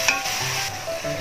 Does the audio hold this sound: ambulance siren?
no